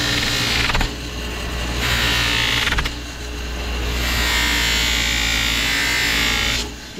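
A buffing wheel spins against chrome screws during interior detailing of a 1955 Chevy Bel Air, making a steady loud whir with a few breaks where contact shifts and the pitch changes.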